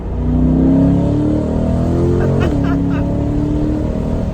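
A Chevrolet C8 Corvette engine hums steadily at 3,500 RPM with exhaust valves closed, with a brief dip and surge partway through; the exhaust note stays fairly muted and constant.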